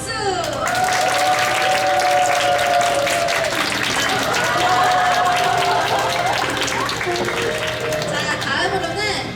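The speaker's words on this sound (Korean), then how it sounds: "박수!" An audience at a church youth festival award ceremony claps and cheers in a loud, sustained burst of applause mixed with crowd chatter and voices throughout.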